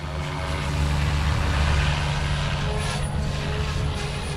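An RC helicopter motor in idle-up mode, bench-tested in an OMP Hobby M4 versus Goosky RS4 Venom comparison, holds a loud, steady whine with a low rotor hum and constant buzz throughout.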